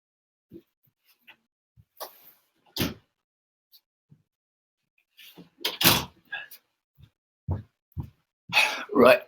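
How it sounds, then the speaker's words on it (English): An indoor door being shut, heard as several scattered thumps and clunks with a sharper knock midway, surrounded by silence and some brief voice-like sounds. "I'm just briefly going to shut a door because it's still being very loud."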